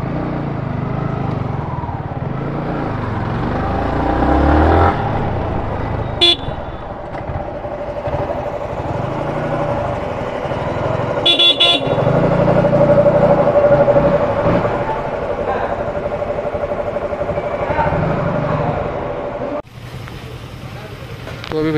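Yamaha motorcycle loaded with luggage on a long solo ride, taken out at a service centre to be checked for a fault, its engine running steadily in the open with wind and passing traffic, a voice speaking over it.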